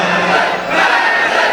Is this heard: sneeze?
no